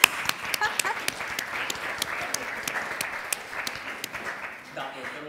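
Audience at a Milan urban-space talk applauding, brisk clapping from a modest crowd with a few sharp, distinct claps standing out, while a voice speaks briefly over it before it thins out.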